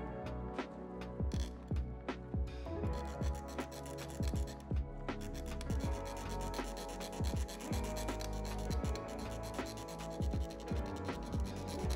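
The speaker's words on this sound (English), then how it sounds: "So I make an additional cut and file it down to make it level." A small file works a cut-down crown stem for a custom Seiko watch mod, making close, steady back-and-forth rasping strokes that repeat with no talking.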